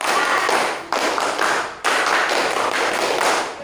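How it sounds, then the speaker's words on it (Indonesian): Students do a scout-style clapping routine (tepuk pramuka) together, making a loud, dense burst of group clapping that comes in three long waves with sharp restarts between them. "Tepuk pramuka."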